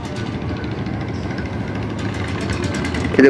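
A small boat engine drones steadily at a low pitch at Sadarghat river port, a continuous rumbling hum that stays fairly close and even throughout.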